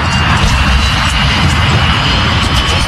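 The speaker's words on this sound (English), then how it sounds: "The 737 finally begins to roll down the runway." A Boeing 737's jet engines spool up as it begins its takeoff roll down the runway, a steady, loud broadband roar that holds constant throughout.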